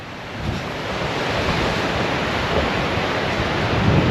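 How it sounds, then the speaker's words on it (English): Surf rolling onto the Christie's Beach coastline near Adelaide, a steady broadband wash of waves with wind buffeting the microphone, continuous and fairly loud throughout with no voices. "So this is a little bit of the Christie's Beach coastline."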